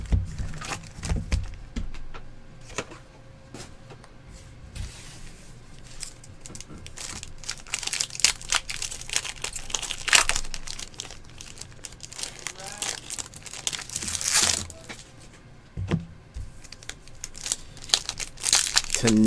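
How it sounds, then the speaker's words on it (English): Foil wrappers on 2014-15 SPX hockey card packs crinkle and tear in repeated close, sharp bursts while someone talks over the handling. "these packs are opening up weird"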